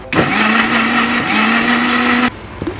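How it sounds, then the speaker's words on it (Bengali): A kitchen blender whirring loudly and steadily for about two seconds, holding a constant motor pitch before cutting off abruptly, followed by a few faint clatters. "এখন একটু ব্লেন্ডার করে নিব আবার"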